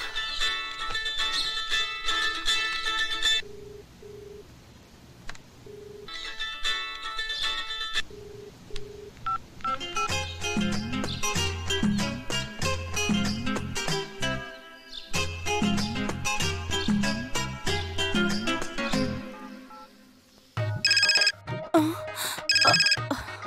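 A telephone sounds in bursts: tonal beeps like dialing, then repeated electronic ringtone phrases with pauses between them, fairly loud and close, alternating with stretches of musical tones.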